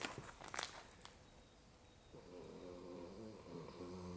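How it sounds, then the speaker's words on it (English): Soft, slow snoring from a dog, rhythmic breaths repeating in the background after a few faint rustles. "Sorry about the snoring, that's the dog."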